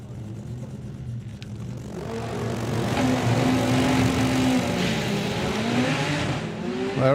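Drag racing cars, including a Corsa, launching down the strip, a loud engine roar that swells and holds steady, heard up close without speech.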